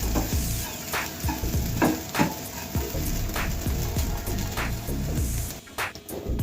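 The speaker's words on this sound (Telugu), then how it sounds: "ఇది కూడా వేయించుకోవాలండి, 2 నిమిషాల వరకు వేయించుకోవాలి." Ground spices frying in a pan for matar kachori, a steady close sizzle with repeated scraping stirs throughout. It briefly goes quiet near the end.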